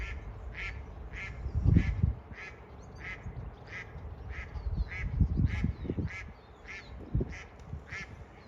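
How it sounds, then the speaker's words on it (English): Ducks on an enlarged farm pond, with grey-legged geese nearby, give a steady run of loud, evenly spaced quacks. Heavy low thumps and rumbles sit underneath. "since we've enlarged it, got ducks here as well"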